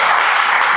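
An audience at a business talk claps in a dense, loud, continuous burst of applause with no speech over it.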